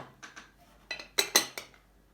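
Paşabahçe glass butter dish handled with several light clinks and taps, a few soft ones and then a brighter cluster of close glassy knocks, with no talking.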